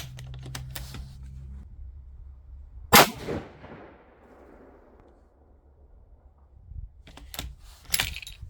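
Rifle fired from a shooting bench outdoors on a cold, sunny day: one sharp, loud report with a decaying tail near the middle, plus a few fainter clicks and knocks around it, no talking.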